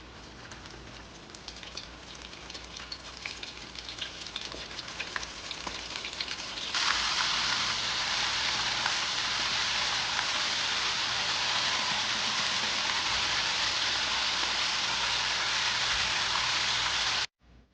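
Chicken wings hit hot oil with a dense, crackling sizzle that jumps louder partway through and then holds as a steady hiss before cutting off abruptly.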